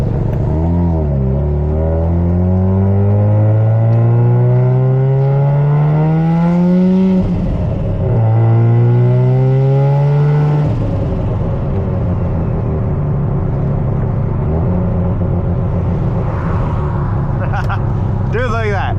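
A Mazda FD RX-7 with a rotary engine accelerates hard through several gears, its loud buzzing exhaust pitch climbing and dropping with each shift, then settling into a steady cruise up close.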